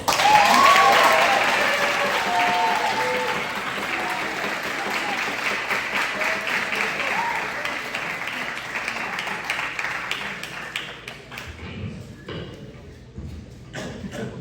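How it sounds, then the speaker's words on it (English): Audience applause for a student at a high school music awards ceremony, a loud, dense wash of clapping from a crowd that gradually thins and fades out by the end. "Please give an applause for Frida Castanet."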